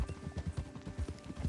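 Horse hooves clip-clop steadily in a video game, a quick regular rhythm of close, moderately loud hoofbeats.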